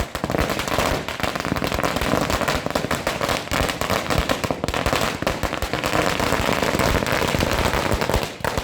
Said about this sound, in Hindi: मुंबई से बारामती तक आतिशबाजी होने लगी